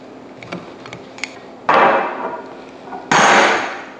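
Metal top of an explosion-proof industrial housing being loosened with a C-type spanner: a few light taps and clicks, then two loud scraping metallic grinds of the threaded cover turning, close and without talk.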